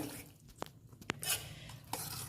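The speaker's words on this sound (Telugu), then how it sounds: "ఈ తాలింపుని కలుపుకుందాము పప్పులో." Spoon stirring a hot tempering into drumstick leaf dal in a pot, a few distinct metallic taps and scrapes against the vessel over a faint sizzle, quiet and close with no talk.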